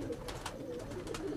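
Diwan Sahab breed pigeons coo softly at close range, a few low rounded calls in a brief quiet stretch.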